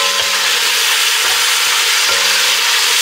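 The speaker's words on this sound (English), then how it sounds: "So right now the bacon's on high heat" A pound of bacon renders in a pan on high heat, giving a loud, steady sizzle and crackle with a few soft knocks of stirring.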